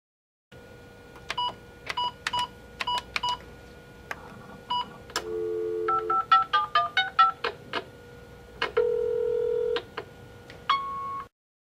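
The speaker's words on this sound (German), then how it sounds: "Sie hören eine Ansage auf dem Anrufbeantworter." Electronic telephone answering machine tones sound before a recorded message: a rapid run of short dialing beeps, then a steady two-tone signal, a longer sustained beep and a final chirp, clear and alone with no voices.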